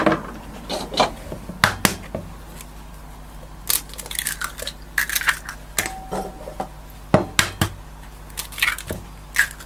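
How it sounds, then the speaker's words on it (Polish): Four eggs cracked into a bowl: sharp cracks and taps against a hard rim, repeated irregularly with small wet squishes between, close up and with no talking. "Do następnego naczynia wbijamy 4 jajka"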